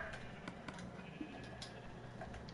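A Minecraft sheep bleats a few times over a steady background hum, the calls moderately loud and slightly synthetic in tone.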